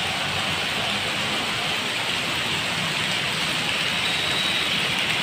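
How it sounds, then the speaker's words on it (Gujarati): A heavy downpour falls on flooded city streets around Mini Bazar and Mangadh Chowk in Surat, a loud, steady, dense hiss that continues throughout with no voices. "વરસાદ છે ધોધમાર, બહુ ધોધમાર આવી રહ્યો છે"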